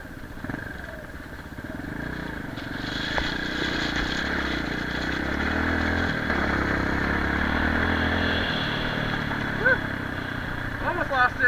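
Qlink motorcycle engine rumbling steadily at low speed while picking its way over loose rock near a campground, with crunching and clatter from the tires and a rider's voice breaking in briefly.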